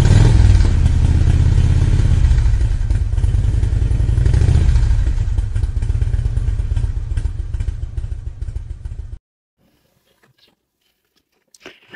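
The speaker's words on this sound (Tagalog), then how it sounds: "So ayan, pinapasok na nga yung aking motor." A 2024 Yamaha Sniper 155 motorcycle rolls into a service shop, its engine running with a loud, rough rattling idle for about nine seconds before cutting off into near silence.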